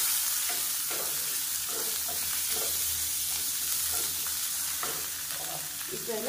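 A bunch of curry leaves and coriander leaves frying and being stirred in a pan for chutney, a continuous close sizzle with rhythmic scraping strokes and no voices.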